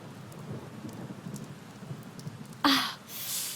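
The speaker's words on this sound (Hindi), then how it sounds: "मैंने कहा था ना कि बारिश होगी।" Steady movie rain patters under a low rumble, then a sharp, loud thunderclap cracks near the end and rolls on into heavy rain.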